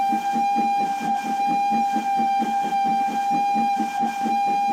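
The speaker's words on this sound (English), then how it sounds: "As he went, Thomas scampered by, whistling cheerfully" A steam locomotive whistle blows steadily and loudly over the rhythmic chuff of the engine, with no talking.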